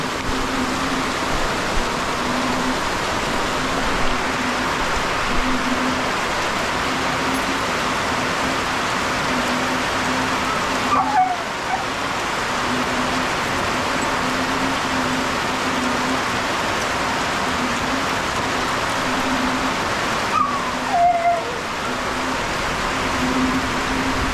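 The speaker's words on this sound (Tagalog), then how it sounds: "Grabe lakas ng ulan." Heavy rain pours steadily and loudly outside a small hut, a dense unbroken roar of water on surfaces with a low droning hum beneath and a couple of brief knocks, no talk.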